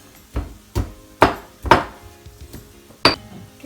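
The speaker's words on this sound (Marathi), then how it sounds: "आणि लसूण आपण चांगले ठेचून घ्यायचे।" Garlic cloves are crushed in a kitchen with five separate, sharp pounding knocks spaced a moment apart, close and fairly loud, with no talk.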